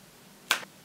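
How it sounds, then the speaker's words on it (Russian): A single crisp finger snap rings out close and sharp against near silence, dying away quickly. "Просто хлопну сейчас в ладоши или там щелкну в пальцы"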